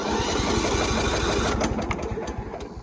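A John Deere LT110 lawn mower engine cranks and catches on choke, a close, loud, rapid mechanical chug that thins into uneven running toward the end.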